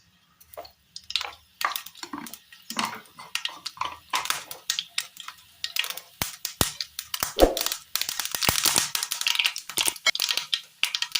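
Mustard seeds splutter in hot oil in a pan, scattered sharp pops and crackles building into a dense, close crackling burst in the final seconds.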